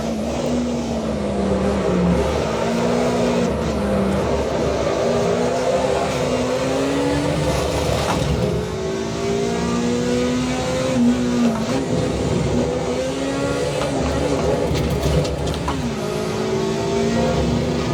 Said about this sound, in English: you can hear the engine a lot more than in this open part of the track